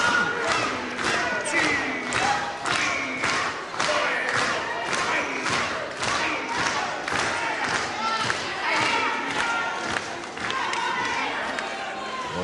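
A wrestling arena crowd during a bout roars and jeers steadily throughout, a dense wash of crowd noise under a commentator's voice, with occasional thuds from the ring.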